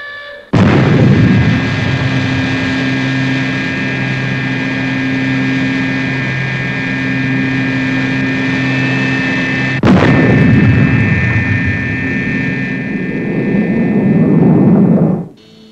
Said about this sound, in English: We're ready to lift off as soon as the supply ship is airborne.